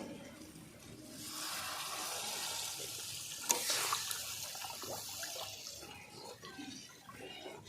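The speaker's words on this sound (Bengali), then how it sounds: "এবার আমি জল দিয়ে দেবো" Water poured into a pan of egg curry masala, a continuous splashing, hissing pour that swells after the first second, peaks midway with a sharp splash, then tapers off; no one talks.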